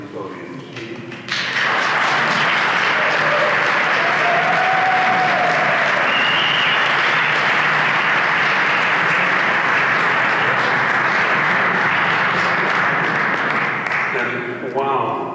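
A large audience at an architect's inauguration ceremony bursts into loud, sustained applause after a moment of speech, the thick clapping holding for over ten seconds before voices return faintly at the end.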